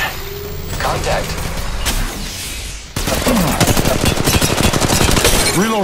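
Rapid gunfire in Apex Legends Mobile, dense close bursts that grow louder and more continuous midway, mixed with game effects and a voice talking over it.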